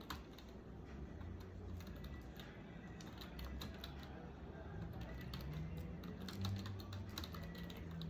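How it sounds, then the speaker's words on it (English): Soft, steady tapping of keys on a computer keyboard as someone writes the next page of a book, a quiet run of rapid clicks over low background hum. "so I would start typing over here on the next page."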